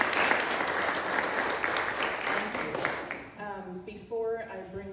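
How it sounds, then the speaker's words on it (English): An audience claps for the hosts of a United Way food security community event, with dense, loud applause filling the room for about three seconds before it thins into scattered claps and a few voices. "So we'll give them a big round of applause too."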